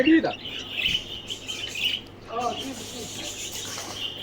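Small birds chirping at a bird market with ducks, pigeons and turtles, a few faint high tweets and calls in a quiet setting, briefly mixed with low voices.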